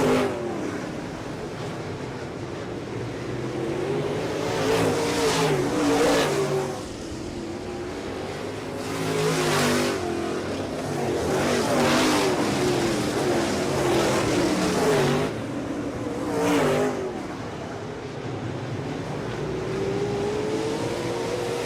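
Modified race cars roar around an oval track during a Modified Mafia Tour race, engines rising and falling as the pack passes close by, with sustained loud revving and brief surges as cars dive into the turns.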